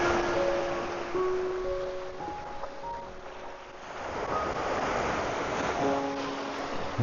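Ocean surf rolls in at Sunayama Beach on Miyako Island, a steady wash of waves that swells and eases, with some wind across the microphone and faint tonal background sounds.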